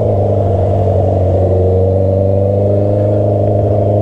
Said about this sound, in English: I feel like I need to rev the gear out pretty high